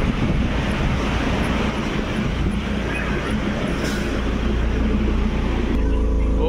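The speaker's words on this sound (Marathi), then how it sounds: "तर आपली ट्रेन पण आलेली आहे" Train pulling into a station on the way to the Rajmachi trek, a continuous loud rumble and clatter of rolling carriages with low mechanical hum, ending in a steady drone as it slows.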